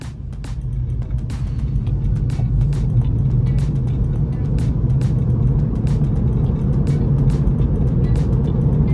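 Tesla driving on FSD Autopilot pulls away from a stoplight, a steady low road and motor hum inside the cabin, with faint regular ticking like a turn signal over it.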